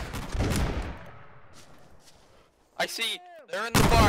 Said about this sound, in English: He's firing at us.